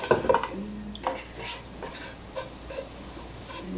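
Vermicelli roasting in a pan is stirred with a utensil, giving soft scraping and light metallic clinks that repeat at an uneven pace, close and fairly quiet.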